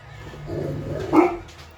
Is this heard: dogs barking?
yes